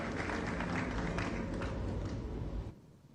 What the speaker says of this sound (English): Shall we do one more big round of applause in appreciation of that prayer?